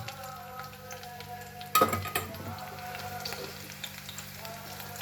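Chopped green chillies dropped into two large spoons of hot oil in a pan for besan and onion sabzi, with a sudden sharp burst of sizzling that settles into steady frying crackle, with faint utensil clinks.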